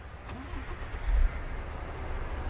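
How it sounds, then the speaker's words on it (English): A truck's 16-liter engine in American Truck Simulator cranks and catches, rumbling low and swelling briefly before settling into a steady idle, heard from nearby outside. "so you guys can hear the 16-liter start up"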